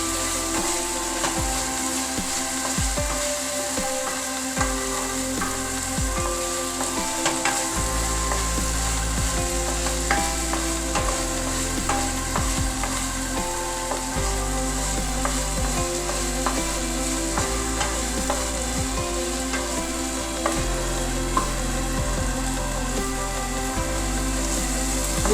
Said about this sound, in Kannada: ಸ್ವಲ್ಪ ಹಲ್ದಿ ಪೌಡರ್ ಹಾಗೂ ಸ್ವಲ್ಪ ಉಪ್ಪು ಹಾಕಿ ಚೆನ್ನಾಗಿ ಮಿಶ್ರ ಮಾಡೋಣ